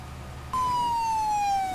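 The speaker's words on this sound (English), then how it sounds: "Maybe we need to bring an ambulance." An ambulance siren in the firefighting game Into the Flames switches on abruptly after a short quiet moment, then sounds as a loud, steady electronic tone that slowly slides downward in pitch.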